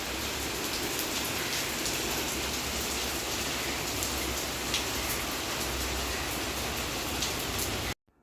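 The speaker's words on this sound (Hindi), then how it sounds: "कितनी तेज़ बारिश हो रही है।" Heavy rain falling outdoors, a loud, dense and steady hiss of drops that fills the whole stretch without a break before stopping abruptly at the end.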